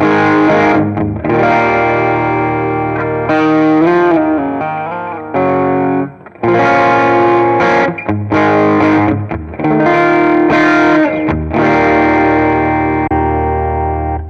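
Distorted electric guitar played through a vintage Fender Twin Reverb 2x12 cabinet impulse response, loud chords and riffs ringing out in bursts with short gaps between phrases.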